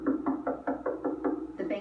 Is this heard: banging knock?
yes